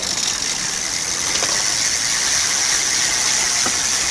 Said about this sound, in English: judging by the sound of that freewheel, it's definitely going to want oiling